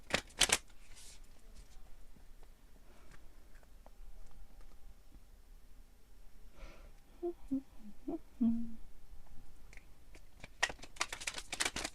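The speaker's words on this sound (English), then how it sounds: "I'm going to pick one card from this deck. Gonna give it a nice shuffle." A deck of cards is shuffled very close and quietly, with crisp bursts of riffling at the start and end and soft handling sounds between them.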